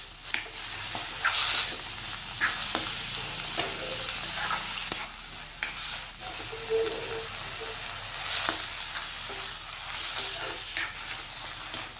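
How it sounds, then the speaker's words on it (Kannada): Brinjal and amaranth leaf palya is stir-fried in a pan, with a steady sizzle and repeated rhythmic scrapes and clinks of a spoon mixing the vegetables. "ಮಿಕ್ಸ್ ಮಾಡಿ 1 ನಿಮಿಷ ಹುರ್ಕೊಂಡ್ರೆ ಸಾಕು,"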